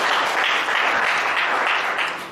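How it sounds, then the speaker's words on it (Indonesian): A church congregation applauds at an evening worship service, a steady wash of many hands clapping together that stays loud throughout before tapering off at the end. "Berikan tepuk tangannya buat Tuhan."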